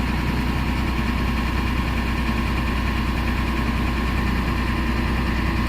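A Mercedes MBE 900 diesel engine in a Thomas C2 school bus idles steadily just after starting, a continuous low rumble with vibration, close and alone with no talk.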